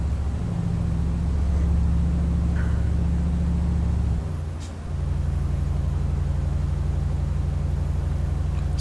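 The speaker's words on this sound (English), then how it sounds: "There wasn't as much concern about muffling the engine." Low, steady engine drone from a Mercedes NG1631 truck in Euro Truck Simulator 2, heard from inside the cab; the rumble dips briefly midway, then holds at a constant, loud level.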